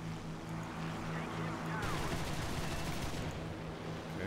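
Aircraft 50 cal machine guns fire in a War Thunder dogfight, a dense rapid rattle over a constant low engine drone, fairly faint and continuous.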